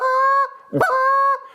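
A handheld goose call blown by a caller, mimicking goose clucks and honks: a sustained reedy honk, a sharp broken cluck, then another long honk, loud and close with no talking.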